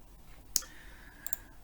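Crisp computer mouse clicks while working in SPSS statistics software, one sharp click followed a moment later by a quick pair of lighter ones, close and isolated over a quiet background.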